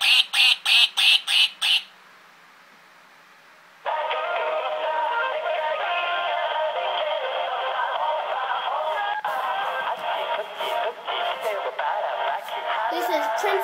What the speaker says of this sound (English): This is another duck.